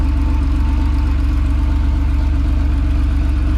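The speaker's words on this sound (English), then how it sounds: "With the way this exhaust sounds." Close, continuous idle of a 1983 Porsche 911 fitted with an aftermarket exhaust: a constant low, throaty rumble with a regular pulsing beat and no change in revs.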